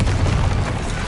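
A booming blast from the Confringo spell in Hogwarts Legacy, a short, loud, dense burst of explosive noise that fills the whole moment.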